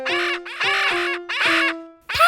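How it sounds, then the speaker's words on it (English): Noisy parrots squawk in a children's cartoon: four harsh, loud calls in a row, each about half a second long, with short gaps between them and no talking. "Look at those noisy parrots."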